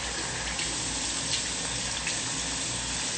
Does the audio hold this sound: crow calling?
no